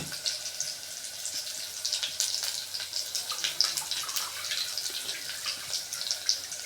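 Strained black tamarind water pouring into a fenugreek curry, a steady liquid splash and trickle heard close up with no talking.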